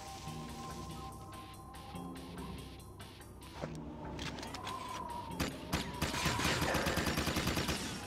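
Rapid bursts of sniper gunfire in the Jak and Daxter video game, sharp cracks that come more thickly and loudly toward the end over a steady game background with a continuous tone.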